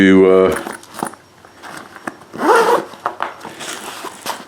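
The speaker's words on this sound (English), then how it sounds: "And you zip that up like that, and then you zip that up" A spotting scope's soft carry case being zipped shut, with brief rasping zipper pulls near the mic and a few rustles and handling sounds between them.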